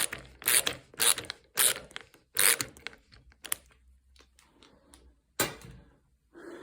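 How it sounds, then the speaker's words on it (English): A screwdriver turns a screw into a wooden nesting box, giving close, crisp ratcheting clicks in a few quick bursts, then pausing, with a final click after a short gap. "And then again with my screwdriver, screwing it down nice and tight."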